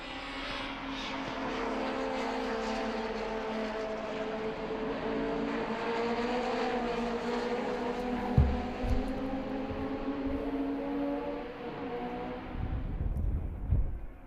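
Race cars at a 2013 Dijon circuit drone past during the final laps, a steady engine whine rising and fading at a middling distance, with a couple of brief thumps near the end.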